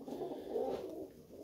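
Pigeons coo steadily through a low, murmuring mid-range drone, the soft throaty calls overlapping continuously at moderate loudness with no talking.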